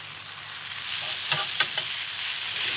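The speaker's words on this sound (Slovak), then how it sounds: "Cibulu s cesnakom ochutíme solou a černým korením. A len krátko orestujeme do zlatista. Ďalej pridáme papriky." Onion and garlic seasoned with salt and black pepper sautéing in a pan as peppers go in, a steady close sizzle with a few light stirring clatters.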